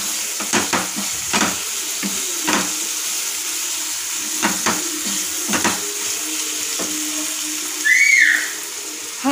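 Spices frying in hot oil for restaurant-style paneer tikka masala, crackling sizzle broken by several sharp stirring clinks of a spoon against the pan, with a brief louder hiss near the end and no voices.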